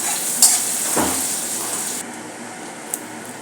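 Chopped onion sizzles in hot oil in a pan and is stirred with a spoon. A steady frying hiss runs under a few scraping stirs and a light clink.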